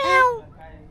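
A child mimics a cat's meow, a single short rising-then-falling vocal cry followed by quiet.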